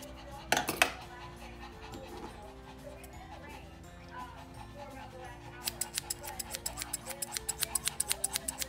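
Scissors lightly trimming the ear hair of a Shih Tzu during grooming, with a single early snip and then a quick even series of close, crisp snips toward the end as a person speaks quietly.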